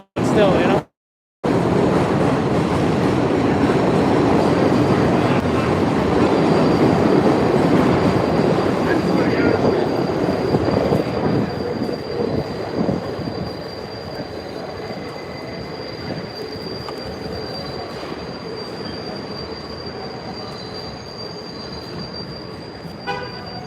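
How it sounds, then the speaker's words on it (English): A train passes with loud, sustained wheel squeal, a steady high screech over heavy rumble that fades after the midpoint to a quieter continuing roll. "no noise of the train"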